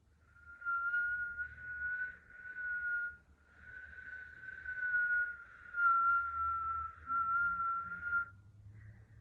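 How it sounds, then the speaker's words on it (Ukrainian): A steady, sustained whistle on each exhalation during kundalini yoga breathing holds one high tone in long breaths with short pauses between them, over a faint low background hum. "Свистимо на видохі."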